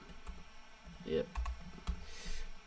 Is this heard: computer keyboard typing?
yes